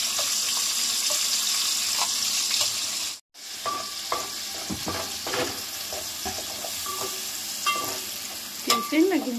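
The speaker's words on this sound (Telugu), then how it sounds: "ఈ పేస్ట్ వేసుకున్నాం కదా, బాగా వేయించుకోవాలన్నమాట." Onion and tomato paste with spices frying in a pan for chicken curry, a steady sizzle with scraping stirs and clinks, a brief gap partway, then louder stirring and scraping near the end.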